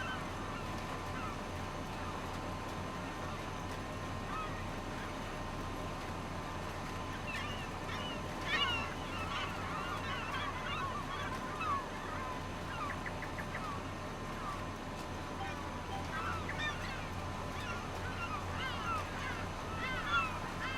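Seagulls crying as they trail a tractor across a field in Farming Simulator 25, faint scattered calls rising over a steady engine drone, a few brighter squawks midway.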